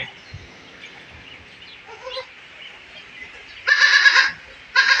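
Goats bleating on a goat farm where kids are raised, a faint murmur of animals first, then two loud, close bleats near the end, the second cut short.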